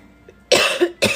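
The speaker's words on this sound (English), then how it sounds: "Sorry, I just coughed in your ear." A person coughs twice, close and loud: a longer harsh burst, then a short second cough about half a second later.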